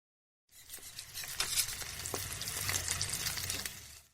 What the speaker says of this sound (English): He puts a frying pan on the burner and melts some butter in the pan.